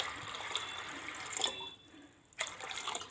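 Water poured into a pot of soaked lentils for pressure cooking, a soft splashing flow that briefly stops and then resumes, with a few drips, heard close and alone.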